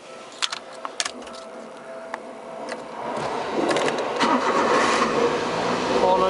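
Small Suzuki Alto CA72V Turbo kei car engine cranking and catching on the first try, a few clicks followed by a steady, rising idle that holds, heard close by.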